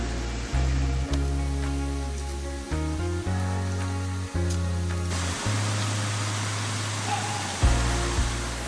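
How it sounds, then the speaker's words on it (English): Rushing water of a waterfall on the Ice Gulch trail in New Hampshire's White Mountains, a steady broadband roar close by throughout, with no talk. "We have arrived at the waterfall."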